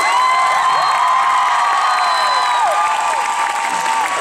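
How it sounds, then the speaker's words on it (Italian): A theatre audience at a concert in Turin keeps up a continuous roar of clapping and cheering, with scattered whoops and voices singing high over the steady crowd noise. "Farei un applauso subito."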